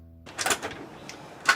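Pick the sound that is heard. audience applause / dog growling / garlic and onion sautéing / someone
someone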